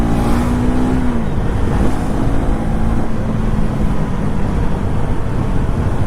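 A KTM Duke 390 motorcycle accelerates hard from a standstill toward 100, its engine a loud, continuous roar close by with rising pitch and no talk over it.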